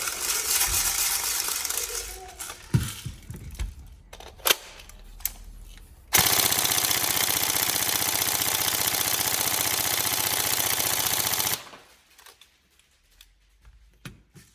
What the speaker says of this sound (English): So we'll drive a few more rounds through it.